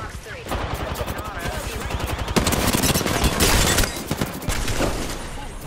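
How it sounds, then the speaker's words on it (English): Rapid bursts of video game gunfire crackle densely as shots hit the player, loud and close, with a voice speaking over the barrage. "shots fired and they're hitting me"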